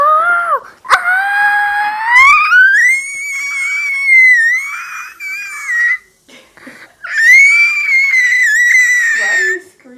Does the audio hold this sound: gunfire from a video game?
no